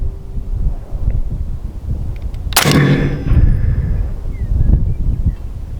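Outdoor wind gusts at a long-range rifle shooting spot make a loud, rumbling buffet across the microphone, broken midway by one sharp, heavy gunshot blast that trails off into the wind.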